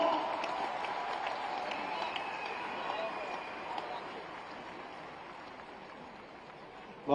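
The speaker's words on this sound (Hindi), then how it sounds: "जोरदार ताली बजाएं" An audience at a poetry event in Raipur claps in a dense, sustained wash of applause that slowly thins and fades toward the end.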